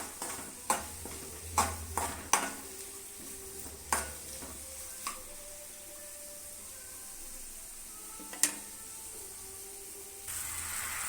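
Ingredients frying in oil in a pan before rice rava is added, with sharp spatula clinks and scrapes in the first seconds, then a quieter steady sizzle and one more tap near the end, close and moderate.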